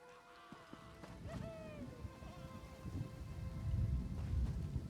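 Rain falls steadily in the fantasy game Elder Scrolls Online, a soft constant patter that builds louder toward the end, with brief tonal game sounds sliding in near the start and no one talking.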